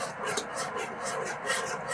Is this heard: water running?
no